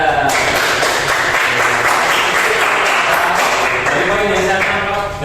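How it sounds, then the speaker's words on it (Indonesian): A classroom group applauds a student, with loud, dense clapping from many hands sustained throughout and a few voices mixed in. "beri aplaus buat Mbak Tasya."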